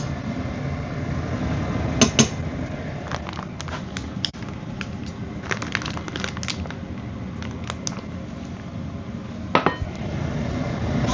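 Lentil stew being stirred in a pot, a spoon scraping and clinking against the sides in scattered knocks over a steady low kitchen hum, with a few sharper clinks standing out.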